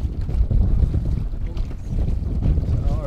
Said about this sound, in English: Typical westerly blow in here.